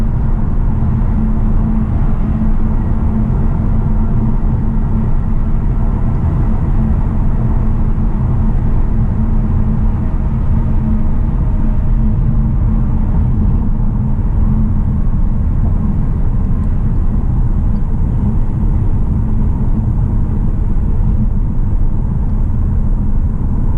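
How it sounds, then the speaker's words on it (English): A 2019 VW Arteon R-Line pulls up a highway on-ramp with a steady, loud low engine drone and road rumble that hold evenly throughout, with no voices. "we'll take this on-ramp up here so we can accelerate back onto the highway"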